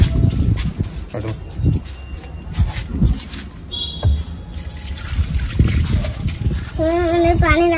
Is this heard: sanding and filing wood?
no